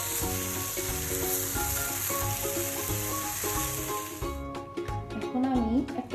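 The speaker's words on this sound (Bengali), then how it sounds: "তারপরে আমি আবারও ভালো করে নাড়তে থাকি।" A carrot mixture for carrot sondesh sizzles in ghee as it is stirred in a pan, a steady hiss under prominent background music, with a few light scraping stirs near the end.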